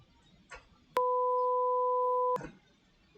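Two steady sine tones at 500 Hz and 1000 Hz sound together for about a second and a half, a low hum paired with a higher pitch, sharply starting and stopping, with faint voice around it.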